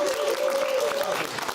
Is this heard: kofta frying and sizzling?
no